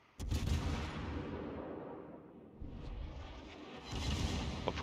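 Secondary battery guns firing from a battleship in World of Warships, a heavy rumbling barrage that opens with a loud boom, carries on as a dense roll, then swells again near the end.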